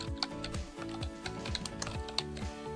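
Fingers tapping a computer keyboard in quick, uneven bursts of clicks, close and quiet, with no other sounds.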